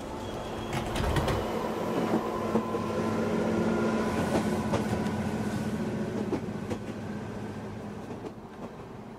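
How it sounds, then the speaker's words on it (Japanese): An electric train pulls away from a station platform, its steady rumble and rolling rail noise filling the scene, with faint clicks and tones over the continuous hum. "3番線電車が発車いたします。"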